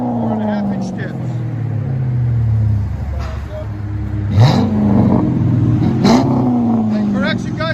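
A 2005–2010 Chrysler 300C with a 5.7L HEMI V8 and aftermarket exhaust with 4.5-inch tips revs up twice, deep rumbling swells rising in pitch and falling back, loud and close, with a voice talking over it.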